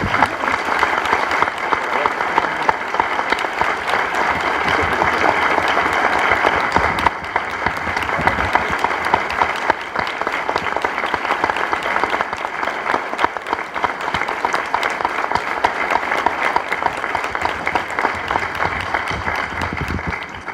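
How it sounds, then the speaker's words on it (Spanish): Sustained audience applause for an author at a book presentation, a steady, even wash of many hands clapping that continues at full strength for about twenty seconds without letting up. "que el aplauso sea para él"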